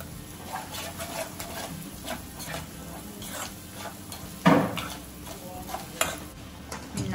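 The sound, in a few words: stirring rajma masala mixture in a pot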